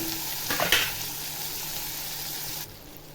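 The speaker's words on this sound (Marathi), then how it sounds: "आता टॅमॅटो टाकते टॅमॅटो टाकल्यावर हे चांगलं असं परतून घ्यायचं" Onion and tomato sauté in a hot pan, with a burst of sizzling and stirring as the tomato goes in, then a quieter continuous frying hiss that cuts off near the end.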